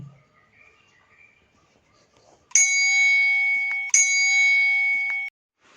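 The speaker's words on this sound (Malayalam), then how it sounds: "എന്നാ മണിയടിക്കടി" A bell at a kulfi shop in Tharekkad, Palakkad, is struck twice in quick succession. Each bright metallic ding rings out clearly and sustains before fading, with no speech.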